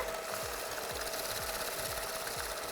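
A hand or stand mixer whips chocolate cake batter with a steady close motor whir, a rhythmic low thump repeating about every half second as the beaters turn through the bowl.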